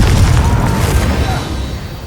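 The Confringo fire spell exploding in Hogwarts Legacy, one loud close boom that rolls off into a fading rumble, standing alone without speech.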